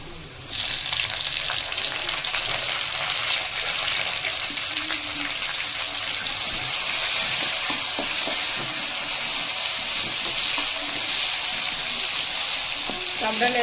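Tomatoes frying in a hot pan of oil with golden-browned aromatics for a puri curry, a steady loud sizzle running throughout with occasional stirring scrapes, close up.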